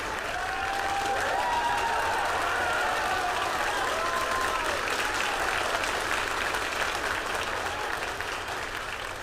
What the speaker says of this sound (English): As you can probably tell from that applause